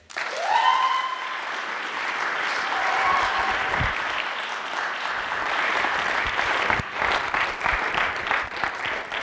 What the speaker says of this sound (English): Audiences, please help me welcome Maggie Regier.